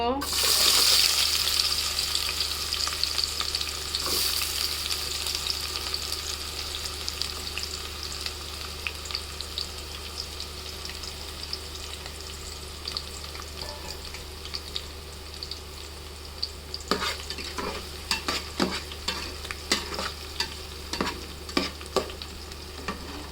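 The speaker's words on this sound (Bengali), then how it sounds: "তেলটা গরম হয়ে গেছে এখন আমি পেঁয়াজ দিয়ে দিব" Onions fry in hot oil in a home kitchen pot, giving a steady, loud sizzle throughout, with faint scraping from stirring and a run of sharper clinks near the end.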